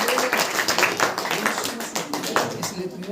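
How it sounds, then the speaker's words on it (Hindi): A congregation claps in quick rhythmic bursts at a Christian Saturday prayer meeting, the hand claps fairly close and mixed with voices throughout. "ताली बजा करके"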